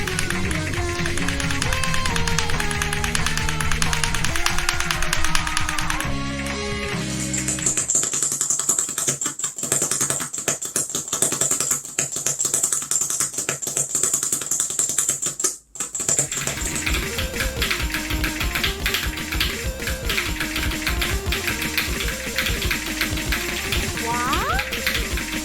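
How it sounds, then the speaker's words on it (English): Keyboard keys tapped rapidly while playing the rhythm game osu!, a steady stream of clicks under loud game music, with a brief dropout midway through. "it almost sounds like they are smashing their keyboards whenever they hit a jump"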